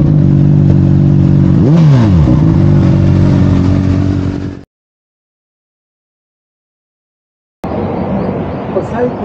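A motorcycle fitted with an Akrapovic slip-on exhaust revs up close, with a sharp rising-and-falling blip over a steady idle, then cuts to silence before the engine returns with speech alongside.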